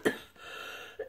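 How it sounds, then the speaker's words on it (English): A lingering cough from a cold, heard as two short, quiet bursts close to the microphone, a throaty cough at the start and a smaller one just before the end, with a soft hush between them. "I just have this like lingering cough that likes to come out at the most inappropriate time"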